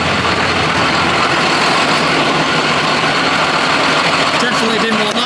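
A farm tractor engine runs loud and near, a dense rough idling rumble that fills the whole stretch, with a voice partly present beneath it.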